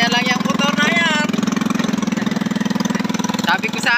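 A motorcycle engine running on a rough, difficult dirt road to the fields, with a loud, steady pulsing putter close by, while people talk and exclaim over it.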